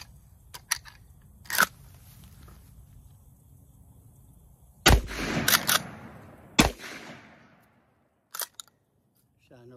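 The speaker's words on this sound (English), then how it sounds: "Shooting an old pine tree over there." Cowboy shotguns, a Winchester 1887 and a double-barrel coach gun, fire outdoors at an old pine tree in several sharp, loud blasts spaced seconds apart, some followed by echoing rumble, alongside mechanical clicks and quiet gaps.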